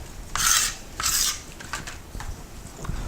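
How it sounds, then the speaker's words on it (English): Rinsed leeks are shaken in a colander set in a bowl, giving two strong bursts of rattling, scraping and rustling followed by lighter, scattered knocks and rubs. "So, I'm going to agitate these in the colander."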